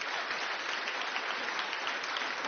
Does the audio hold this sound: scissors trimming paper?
no